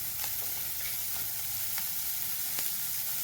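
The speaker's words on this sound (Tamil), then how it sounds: "இப்போ வெங்காயம், பச்சை மிளகாய், பூண்டு எல்லாமே நல்லா வதங்கி வந்துருச்சு." Onions, green chilies and garlic sautéing in a pan, a continuous close sizzle with a few faint scrapes of stirring, and no talking.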